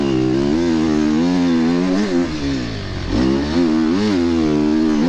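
An enduro motorcycle roars loud and close on a rutted winter track at a British sprint enduro event, its engine note rising and falling steadily as the rider works the throttle, with one brief dip in revs midway.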